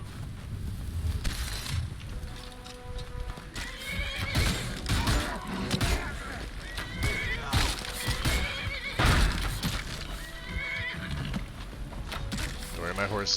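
A horse in a video game neighs and whinnies repeatedly, with clip-clopping hooves and game noise running throughout the clip, fairly loud and continuous.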